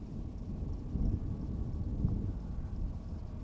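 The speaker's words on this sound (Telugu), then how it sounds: "అది వర్షం వచ్చేలాగా ఉంది, ఉరుముతా ఉంది." Low thunder rumbles at a distance before rain, beside the Tehri Dam reservoir on the Bhagirathi river, a soft, continuous roll mixed with wind buffeting the microphone, with no voices.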